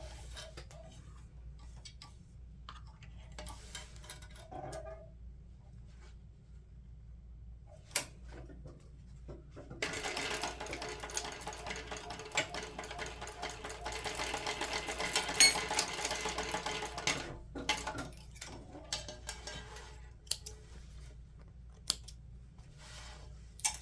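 Sewing machine basting the lining pieces of a messenger bag, heard as a quiet, close mechanical whirr in bursts, with sparse clicks and handling sounds before it and a longer continuous run in the middle.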